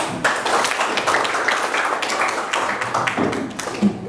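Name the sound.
children clapping hands in a classroom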